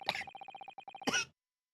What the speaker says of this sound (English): with you coughing